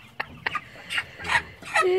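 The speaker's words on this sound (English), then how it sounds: "Hey, chicken." Chicken at a local farm in Jamaica giving a series of short, fairly loud clucks in an irregular rhythm, close by, with little else around.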